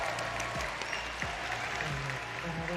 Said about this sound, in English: let's give them a big round of applause and encouragement.